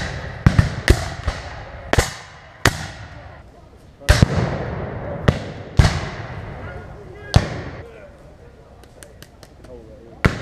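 Gunfire at a Civil War battle reenactment: a string of sharp, loud shots at irregular intervals, some close and some farther off, with voices shouting between them.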